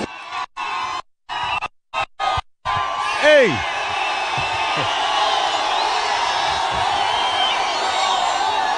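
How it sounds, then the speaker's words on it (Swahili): A university crowd at a presidential public address in Tharaka Nithi County cheers, whoops and yells after a choppy start, settling into a sustained roar of voices; someone shouts once near the start. "makofi ya rais anapokuja kuongelesha wanafunzi"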